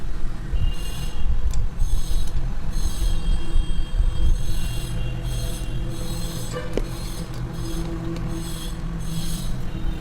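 A sewing machine runs steadily along the lining edge of a blouse, making a close, continuous mechanical whir with rhythmic clicking pulses and a brief sharp tick partway through.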